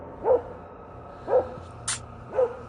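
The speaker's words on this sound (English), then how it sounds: "Well in the woods with a dog barking" A dog barks in the woods, three evenly spaced single barks set somewhat far off, with a faint high chirp between them over quiet outdoor ambience.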